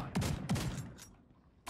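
Shotgun blasts in The Division 2, two sharp booming shots in quick succession followed by a fainter third report, close and punchy with a short decay.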